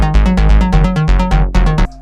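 A basic synth melody built in FL Studio for a dance-track build-up plays alone as a quick run of evenly spaced plucked notes, loud and close, over a steady low bass pulse, ending abruptly.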